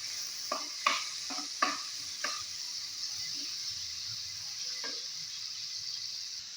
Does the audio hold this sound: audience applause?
no